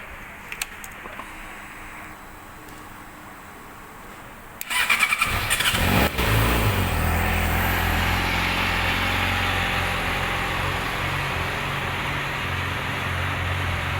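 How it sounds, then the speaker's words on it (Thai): A 2018 Yamaha YZF-R6 motorcycle engine starts after a few faint clicks, then settles into a steady, loud idle that runs on without pause. "เดี๋ยวผมจะพาไปฟังเสียงเครื่อง"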